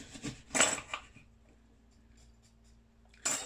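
A knife cuts through a lemon on a board in a few quick chopping strokes, then a quiet pause with a faint hum before another cut lands at the end.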